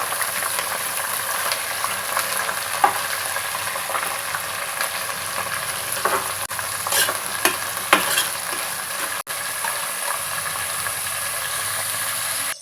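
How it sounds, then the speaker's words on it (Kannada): Cabbage sizzles and crackles steadily in hot oil, with occasional stirring scrapes and clatters of a utensil against the pan. "ಕ್ಯಾಬೇಜ್ನ ಹಾಕೋತಾ ಇದ್ದೀನಿ ತರಕಾರಿ ಎಣ್ಣೆನಲ್ಲೇ ಚೆನ್ನಾಗಿ ಫ್ರೈ ಆಗಬೇಕು"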